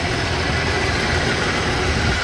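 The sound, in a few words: Ford car engine idling in the shop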